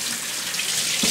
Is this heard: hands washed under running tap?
yes